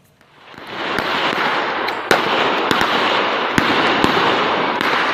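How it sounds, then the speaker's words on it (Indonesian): Police fire gunshots to disperse a crowd of looters at a nickel processing site in Morowali, Central Sulawesi: sharp loud cracks go off at irregular intervals over a dense roaring crowd din, with no clear speech. "Polisi terpaksa melepaskan tembakan untuk membubarkan puluhan orang yang diduga terlibat aksi penjarahan"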